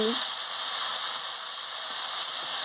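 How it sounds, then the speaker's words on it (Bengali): Papaya and koi fish curry, just salted, is stirred in a hot pan, giving a continuous bright frying hiss close by with faint scraping at the start. "দিয়ে ভালো করে নাড়িয়ে নিচ্ছি।"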